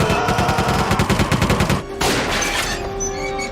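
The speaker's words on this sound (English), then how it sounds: "whose solution to every problem is to shoot guns at it" Loud rapid bursts of gunfire from the 1999 film The Mummy, a fast string of shots followed by a ringing echoing tail.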